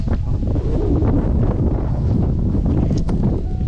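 Strong wind on Seven Star Mountain, Yangmingshan, Taipei buffets the microphone in a constant low rumble, loud and unbroken, with a faint rustle on top and no talking.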